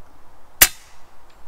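A single sharp, loud crack from an FX Impact M3 air rifle being fired during tuning, a brief bright report standing alone against a quiet background.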